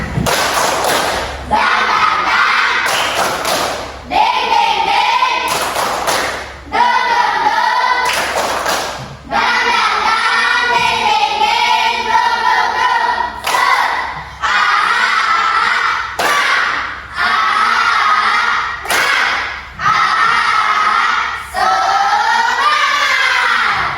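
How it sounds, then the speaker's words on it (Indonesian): A class of students performs a rhythmic spirit clap and chant together, with loud unison shouting broken by sharp group claps in a repeating pattern, close and energetic. "Tepuk semangat."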